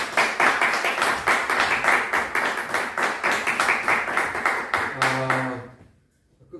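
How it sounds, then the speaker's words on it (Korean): An audience at a church lecture on Romans and COVID claps steadily for about five seconds, a dense run of handclaps, before the applause dies away into near silence as a faint voice begins. "박수 해주세요"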